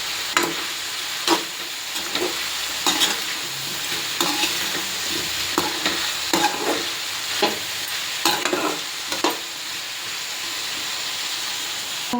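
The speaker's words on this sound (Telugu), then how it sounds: "ఇంకో పక్కన ఆనపకాయ పచ్చడి చేస్తున్నానండి. మగ్గుతున్నాయండి." Bottle gourd and tomato pieces with green chilies cooking in a pan for chutney, giving a steady close sizzle and hiss with occasional stirring scrapes throughout.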